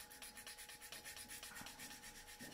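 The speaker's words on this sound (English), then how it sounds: "It's just a little piece of sandpaper, just sand on top of some sprue goo." A small piece of sandpaper rubs over a 1/48 scale plastic model kit part coated in sprue goo, a steady, fast, rhythmic scratchy back-and-forth, close but faint, with no voices.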